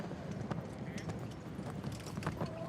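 Horses' hooves clip-clopping at a four-in-hand driving championship cones competition, a run of soft irregular hoof strikes at a distance, faint under arena ambience.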